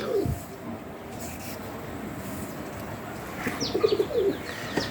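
Pigeons kept in a home loft give soft low coos and a few chirps at moderate distance over a quiet room hum, with a brief rustle of wings.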